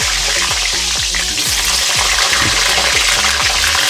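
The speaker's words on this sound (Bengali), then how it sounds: "এবার আমি কেটে ধুয়ে রাখা আলুগুলো একটু ভেজে নেব" Whole washed new potatoes fry in well-heated oil in a wok, with a loud, steady sizzle and regular scraping and stirring clanks roughly every half second.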